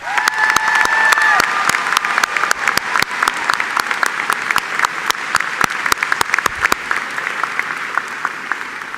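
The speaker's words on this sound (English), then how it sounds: "I congratulate you and offer a special round of applause" Graduation ceremony audience applauding in a large hall with bleachers, a dense, loud wash of many hands clapping that holds steady for about nine seconds, with a brief tone at the start.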